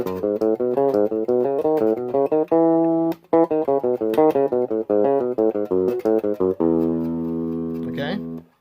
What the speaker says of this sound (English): common riff or exercise where you just play a scale in sets of 5 notes